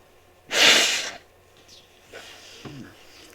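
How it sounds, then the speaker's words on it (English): Someone gives one loud, forceful nose blow, a short burst of breathy noise, followed by fainter sniffs and snorts. "I had to blow my nose"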